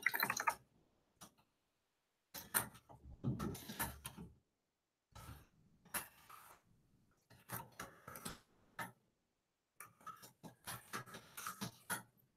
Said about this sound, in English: I'm gonna type this out.